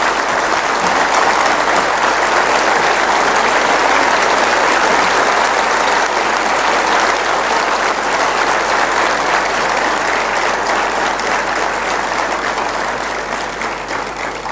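Sustained, loud applause from a large audience at a Kshatriya community conference in Gujarat, steady dense clapping filling the whole stretch and easing slightly near the end, with no talking over it.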